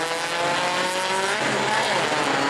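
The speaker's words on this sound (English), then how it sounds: "Big spin and crash at the point leader, get a piece." A Bomber class race car spins and crashes at a New Smyrna oval, engine roar and tire noise swelling loud and close for a few seconds under a steady crowd-and-track wash.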